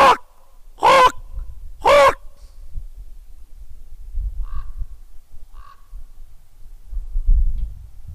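Ravens answer a man's hoot calls: after three sharp, loud croaking calls, two faint distant calls follow amid low rustling and quiet ambient noise.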